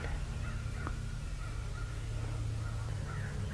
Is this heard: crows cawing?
yes